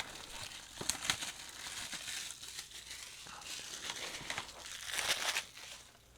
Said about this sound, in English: let's take our rusty, trusty, dusty knife, cut down the side of it, open up the plastic